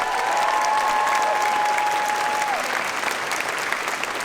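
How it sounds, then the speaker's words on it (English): Comic-Con Hall H audience at a Star Trek: Picard panel bursts into dense, sustained applause, loud and steady throughout, with a faint tone sliding through it. "let's give a great applause to a great creator"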